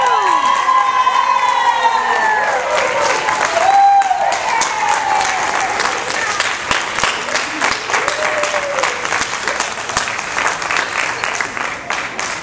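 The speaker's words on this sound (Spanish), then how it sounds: "Un aplauso fuerte para Ana" Loud, sustained applause and cheering from a school crowd at a sixth-grade graduation awards ceremony, with children shouting and voices mixed into the clapping throughout.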